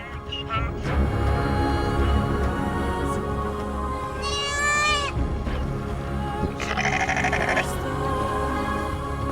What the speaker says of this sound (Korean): 가축들의 울음소리로 깨어나는 마을의 아침.